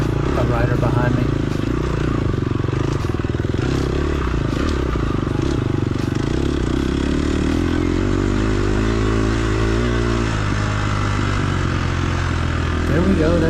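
A dirt bike engine revving hard on the throttle through tight woods and sand whoops during a hare scramble race, close and continuous with rising and falling pitch, plus clattering and scraping from the terrain.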